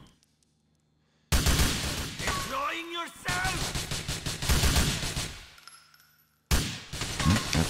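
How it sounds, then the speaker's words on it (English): Video game gunfire rattles in dense automatic bursts, loud and close, broken by a short quiet gap, with voices talking over the shooting. "Somebody's shooting at me."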